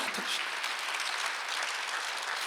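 Members of a church congregation clap together during a Sunday service, a continuous, even patter of applause heard from a moderate distance.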